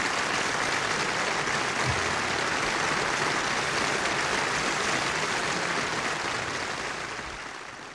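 Steady, dense audience applause with continuous clapping that holds strong for several seconds before slowly tapering off at the end, from a comedy sketch stage performance.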